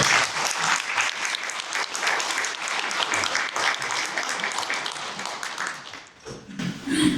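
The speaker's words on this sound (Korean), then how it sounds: "우리 의원님을 위해서 박수 한번 해주세요" Crowd applause for a lawmaker at a parliamentary policy forum on railway type approval, a dense sustained clapping from many people that dips briefly near the end and then swells again.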